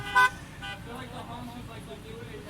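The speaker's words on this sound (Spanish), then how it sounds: "los que están aquí en persona, echen un bocinazo también, así que se escuche" A single short car horn toot rings out near the start, from a car at a drive-in church service, followed by a low, steady murmur of background noise.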